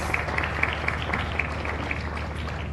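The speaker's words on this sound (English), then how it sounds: "Your applause, please." Applause from a press conference crowd at Junior Eurovision 2018 in Lisbon, a dense wash of clapping with a few sharper claps standing out, steady for a few seconds.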